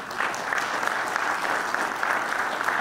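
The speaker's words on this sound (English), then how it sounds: "I know people clap about that" Audience applause at a national town hall meeting on race, class and poverty, a dense continuous patter of many hands clapping with faint crowd noise behind it.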